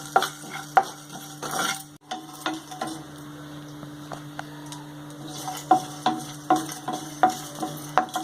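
Cinnamon, cloves and cardamom dry-roast lightly in a pan, with a faint sizzle under repeated scraping stirs. The spoon strikes the pan in quick, uneven clusters, close and fairly quiet.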